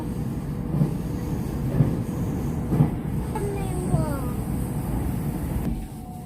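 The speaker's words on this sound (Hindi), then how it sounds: "स्टेशन आया है और जी खड़ी है दूसरी ट्रेन" A train running near a station on Japan's Izu Peninsula near Shimoda, with a steady rumble of rail cars, rhythmic wheel thumps over track joints and faint squeals, while a person speaks over it.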